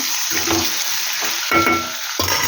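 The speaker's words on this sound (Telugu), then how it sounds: "నెక్స్ట్ సాల్ట్ వేస్తే ఈ ఆయిల్లో మంచిగా ఫ్రై అవ్వాలి ఫ్రెండ్స్ చికెన్ లివర్" Chicken liver fries in hot oil with salt, giving a loud, close sizzle that surges in bursts as it is stirred, three strong pulses over a continuous hiss.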